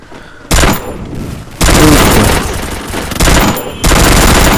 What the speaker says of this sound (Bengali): মারছি, ভিক্টর দিয়ে মারছি।